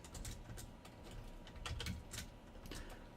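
Soft, rapid clicking of computer keys being typed in quick irregular bursts, close and quiet.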